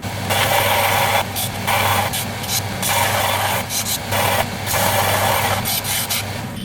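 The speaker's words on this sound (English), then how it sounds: "Just gonna throw them on the belt sander quickly, take all the burr off the edges" A belt sander deburrs the edges of cut metal turbo manifold pieces for a 1.8T stroker engine build, giving a loud, close, abrasive rasp over a steady motor drone that rises and eases in short repeated passes.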